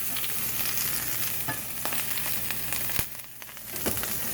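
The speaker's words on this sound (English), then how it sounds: "get your pan hot and get your peppers going in the pan" Chopped peppers fry in a hot pan with a close, continuous sizzle and intermittent crackles and stirring clicks.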